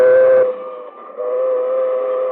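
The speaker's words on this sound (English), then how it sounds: "And here comes the train." A train sounds a sustained horn as it nears a road crossing with automatic signals, the loud tonal blast dipping briefly and then continuing steadily.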